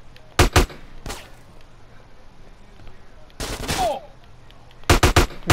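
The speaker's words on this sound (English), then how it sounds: "Who's shooting me?" Gunfire in the video game GTA San Andreas: a couple of sharp close shots, a lone shot, then a longer burst and a final quick double, with a faint voice in between.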